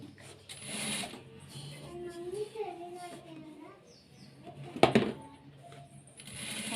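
Sewing machine stitching a puff sleeve in a tailoring class, short bursts of stitching with a sharp metallic clack midway, close by under occasional speech.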